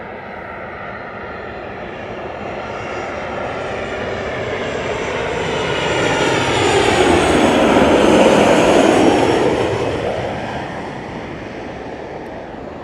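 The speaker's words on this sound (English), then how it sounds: "And there we have the 737. Quite a fast approach, it has to be said." A Boeing 737 airliner on a fast landing approach at Lanzarote Airport, its jet roar swelling from a distant rush to a loud, broad peak overhead, then fading away, with a wind-like hiss throughout.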